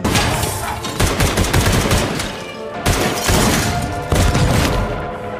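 Loud, dense bursts of rapid gunfire come in three or four sustained volleys, separated by short pauses, with booming, rattling shots close by.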